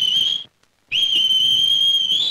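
A steady, piercing whistle imitating a koel's call sounds in an old Tamil comedy film scene, breaking off briefly before resuming, loud and close with no speech over it.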